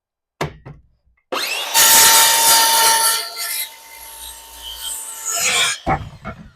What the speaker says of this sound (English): So what we're going to do today is use this miter saw.